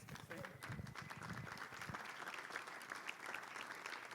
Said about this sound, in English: Nick, a round of applause.